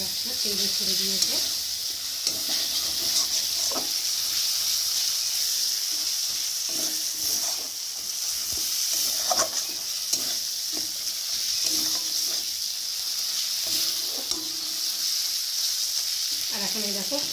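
Tomato masala frying in oil for an egg bhujia, stirred in the pan: a steady close sizzle runs throughout, broken by repeated spatula scrapes at an uneven rhythm, with no talking.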